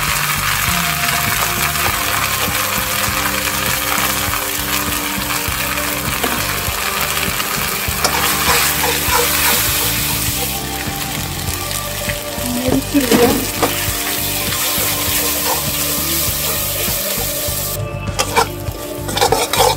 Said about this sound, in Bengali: পেঁয়াজটা ভাজা হয়েছে, দিয়ে দিলাম আদা